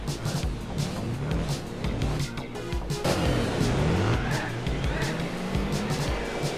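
A Nissan Skyline's turbocharged engine revs hard in a Gran Turismo 4 race, with continuous loud engine roar, shifting pitch sweeps and tire squeal, dense and unbroken throughout.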